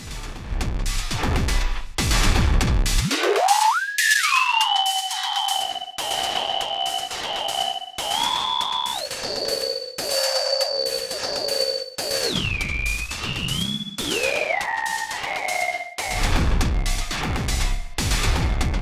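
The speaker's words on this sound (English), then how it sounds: "I'll add the frequency warper" Synth track on an Elektron Tonverk, sent through a bus with the frequency warper effect: sweeping, warped tones glide and step across the range, with abrupt pitch jumps and a dense, noisy industrial texture running loud throughout.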